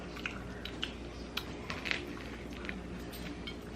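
Someone chews a crunchy grinder sandwich up close, with soft, irregular crunching and biting clicks scattered over a quiet room background and no talking.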